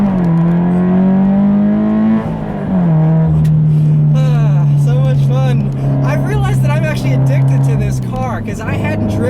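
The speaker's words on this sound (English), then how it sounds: "I'll leave you with a nice little acceleration here like I always do." Subaru BRZ on snow tires accelerating hard with wheel spin, a loud steady engine drone that climbs in pitch, drops at a shift, then rises again, heard close from inside the car with a voice talking over it.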